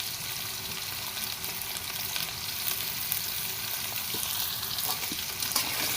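Rupchanda fish pieces with potatoes, salt and turmeric fry in a pan, giving a steady, moderately loud sizzle with faint stirring scrapes throughout and no talking.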